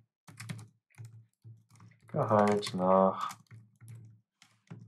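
Short bursts of keyboard typing come from someone entering Java code at a console, with separated clusters of keystrokes, and someone speaks briefly in the middle.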